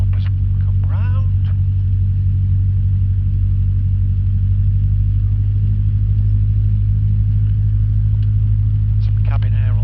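Inside a light aircraft taxiing on the runway at Netherthorpe Airfield, a loud, constant low engine drone fills the cabin while the pilot talks over it, with occasional faint clicks.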